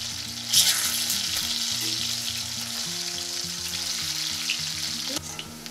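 Make-ahead breakfast food frying in a pan, a steady close sizzle with soft crackles running throughout, alone without talk.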